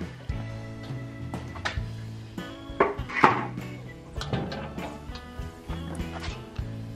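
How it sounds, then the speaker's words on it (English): Wood being loaded into a smoker for Thanksgiving cooking, with irregular close knocks, clunks and scraping of pieces against metal, plus a brief louder clatter midway. "Now it's time to load the smoker."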